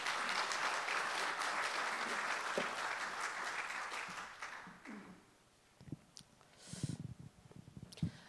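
Lecture audience applause fills the first several seconds, dense and steady, then tapers off into quieter room noise with a few scattered sounds.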